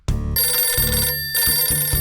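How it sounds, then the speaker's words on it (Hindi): A cartoon telephone bell rings loudly in repeated bursts with brief gaps, close by and alone with no voices. "फोन मत उठाना"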